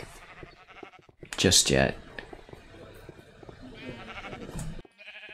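Sheep bleating in Minecraft, a loud bleat partway through standing out over steady background game sound, while a person talks throughout.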